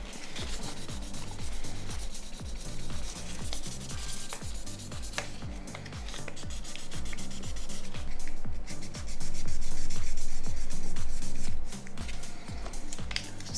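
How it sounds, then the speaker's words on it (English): Excess hardened glue is sanded by hand off a Nokia 6100 phone shell, with a steady back-and-forth rubbing rhythm of rapid, close, loud strokes continuing throughout. "I'm gonna sand away the excess glue."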